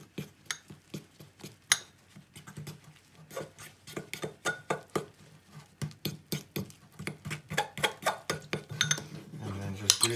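A spoon stirs a thick paste of flour and water in a bowl, making repeated clinking and scraping strokes close by in an uneven rhythm that speeds up toward the end.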